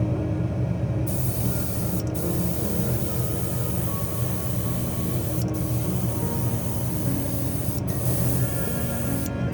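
Continuous hiss of an airbrush spraying paint onto a Hoonicorn Ford Mustang scale model, steady throughout with a few brief breaks in the higher air noise.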